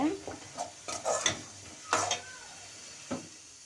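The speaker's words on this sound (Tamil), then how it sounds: "நம்ம சாதத்தை வந்து கிளறி எடுத்துக்கலாம்" Rice being stirred in a pan for Tamil-style lemon rice, with a spoon scraping and clinking against the metal in several short, separate strokes, close by and fairly quiet.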